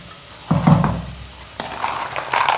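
Onions sautéing in a pan for mint pulao, a soft close sizzle with intermittent scraping and stirring knocks from a spoon against the pan.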